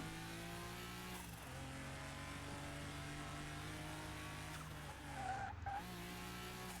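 Braking and tire skidding from a car in Car Mechanic Simulator 2021 on a track with a hairpin, after a fresh brake job: a steady engine hum, then a long screeching skid sliding into a loud squeal near the end.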